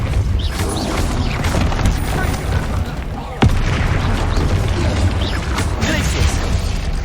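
A Depulso spell is cast in Hogwarts Legacy during a fight with an angry troll, bursting with a sharp impact amid loud, dense game combat noise with booms and crashes.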